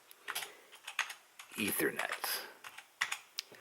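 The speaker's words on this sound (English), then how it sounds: "Excuse me for my horrifying typing skills" Someone types on a computer keyboard nearby in quick, irregular bursts of clacking keystrokes, and a voice briefly speaks a single word partway through.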